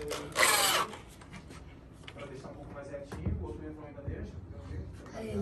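A power drill boring a hole to pass cables through gives one loud, short whirring burst near the start, followed by quieter handling and rubbing noises while people talk nearby.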